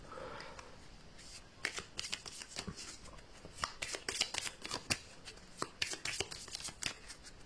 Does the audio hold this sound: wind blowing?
no